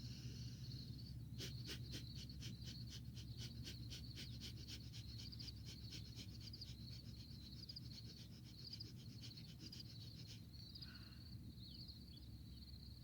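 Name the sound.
panting breaths from the belly through the nose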